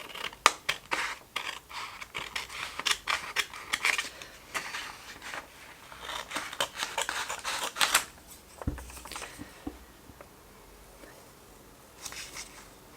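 Scissors cutting out paper images at a craft table: a rapid series of sharp snips and paper rustles, then a few sparser cuts and quieter handling, with no talking.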